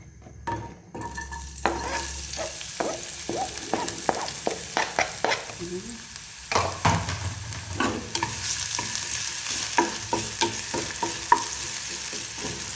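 Onions stirred and frying in a hot pan for a simple corned beef and potato dish, a steady close sizzle broken by repeated scraping stirs throughout, with no talking.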